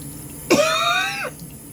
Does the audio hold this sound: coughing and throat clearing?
yes